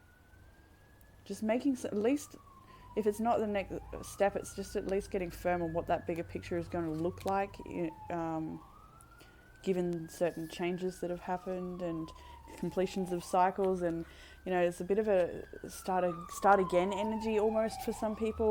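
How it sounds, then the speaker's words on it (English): A passing emergency vehicle siren wails in slow rising and falling sweeps in the background while someone talks continuously over it. "I don't know if you heard that siren, it was going off."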